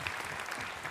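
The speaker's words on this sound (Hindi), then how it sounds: "ताली बजाइए इनके लिए।" Applause from an audience at a spiritual discourse by a Jain monk, a steady dense patter of many hands clapping throughout, close and fairly loud.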